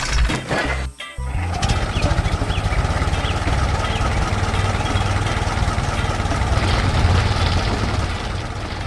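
A purple tractor works a field beside a wooden fence and a barn, its engine running in a steady, close, low rumble after a short uneven start.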